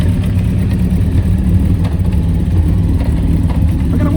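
A 1993 Honda Fireblade motorcycle engine running on choke, close and loud, with a steady rumbling idle and slight wavering in the revs.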